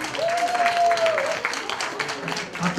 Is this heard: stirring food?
no